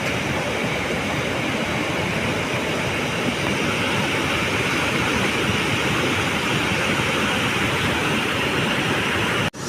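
Muddy river water rushes where two rivers meet, one brown and silty and the other clear, making a steady, loud, continuous roar with no voices, cut off abruptly at the very end.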